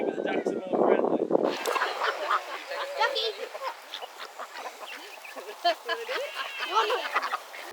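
Ducks on a homestead quack in short, irregular bursts while being hand-fed, close and lively, with brief handling noise at the start.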